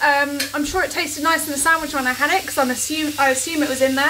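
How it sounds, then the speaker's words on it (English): Meat sizzles and spits in a hot pan, a steady crackling hiss that runs throughout while someone talks over it close by. "that's the sound of meat sizzling"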